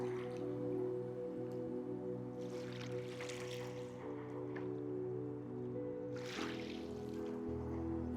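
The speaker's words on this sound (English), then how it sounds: "Listen to the water." Water trickles and drips over rocks along a seawall in a soft, continuous babble over a steady low hum, with a few brighter splashy bursts now and then.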